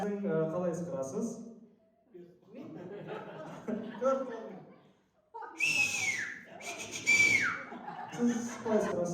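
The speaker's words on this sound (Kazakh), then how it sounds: "ал қалай ысқырасы көрміш кім?" Amid conversation at a 45-year class reunion, a person lets out a couple of brief, thin whistles after a short pause, with voices continuing around them.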